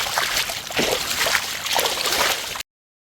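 Children playing in water at the Maldives park, an outdoor water park: continuous splashing, trickling and sloshing with a few louder splashes, nearby, before an abrupt cut.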